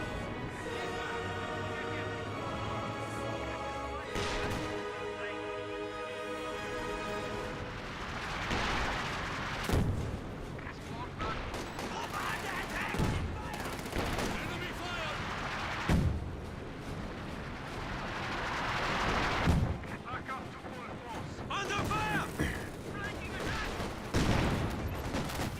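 A six-pounder anti-tank gun fires in Company of Heroes 2, its booms landing among a din of repeated gunfire and explosions over a battle soundscape, with a few brief moments of talk.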